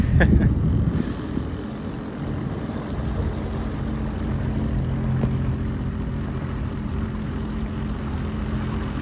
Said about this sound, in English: Trying to steer this jet ski with one hand.